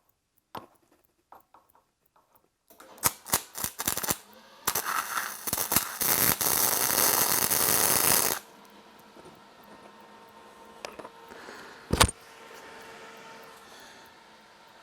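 A hardy tool is tack welded in a metal shop. A few sharp clicks lead into about five seconds of loud, close, crackling arc buzz, then quieter shop sounds with one sharp metallic bang near the end.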